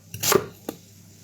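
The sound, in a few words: coarsely chopping onions with a knife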